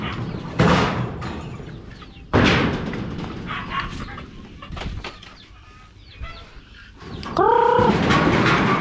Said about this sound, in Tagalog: Bubuksan namin to para papakain tayo ng BSF sa mga manok.